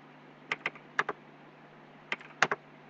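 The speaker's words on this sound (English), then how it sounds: "and I'm typing some numbers." Numbers are typed on a computer keyboard into a spreadsheet, a quiet room with a few crisp, close key clicks in two short bursts separated by a pause.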